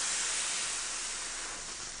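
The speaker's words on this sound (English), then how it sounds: "Now when I pull the trigger on there, you can see the steam coming out." Steam hisses steadily and loudly from the nozzle of a Pure i6 industrial steam and vacuum cleaner, a dense, bright spray without interruption.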